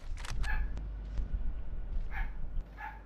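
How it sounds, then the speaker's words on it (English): Dog barking in short, sharp yips, a few barks scattered across a few seconds, fairly close over low background rumble during a video game session. "Why is my dog fucking losing his mind?"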